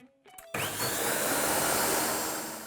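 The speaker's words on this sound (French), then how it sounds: "Je ferme et je mixe à pleine puissance pendant 2 fois 10 secondes." Food processor at full power blending oats and water into oat milk: a brief quiet start with clicks, then a loud, steady whirring roar that fades slightly toward the end.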